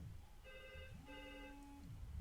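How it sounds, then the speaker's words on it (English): A phone rings with two short electronic tone bursts, faint and distant, over low background hum. "And my phone is ringing"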